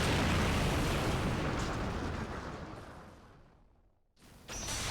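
A bomb detonates in the arcade shoot-'em-up Crimzon Clover World EXplosion: a loud, sustained roaring blast that fades over about four seconds, cuts out briefly, then swells back in.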